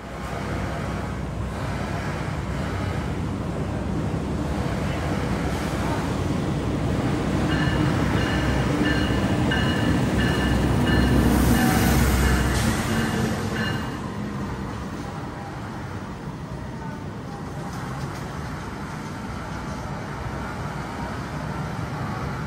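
A passing train, the Gajayana express, rumbles past for a long stretch, a steady loud roar of wheels and rails that swells in the middle and then eases slightly.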